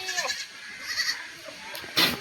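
A goat bleats on a rural farm hamlet where a leopard has been raiding livestock; a few moderate cries and some faint voices in the background.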